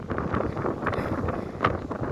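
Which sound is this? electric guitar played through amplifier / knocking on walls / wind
wind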